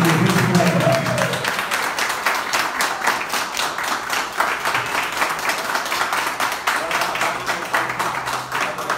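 Dense, sustained applause from an audience at a formal inauguration ceremony for the new leaders of a popular movement, steady clapping filling the hall, with a voice speaking over the first second.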